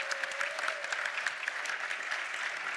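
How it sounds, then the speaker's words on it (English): Distant, steady applause from a convention audience at a PAX East 2019 panel, with dense clapping that is faint and evenly sustained throughout. "You don't have to applaud there, but it makes me feel good"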